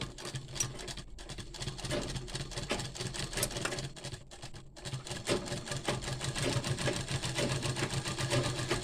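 A sewing machine stitches a kubasa blouse, its fast mechanical whirring and rattling running steadily up close for the whole stretch, with brief gaps where the needle pauses and no one speaking.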